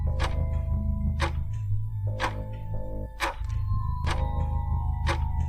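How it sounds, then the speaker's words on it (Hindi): A wall clock ticks steadily in a silent house at night, with sharp, evenly spaced clicks standing out clearly over a low, quiet background hum. "घड़ी की आवाज़।"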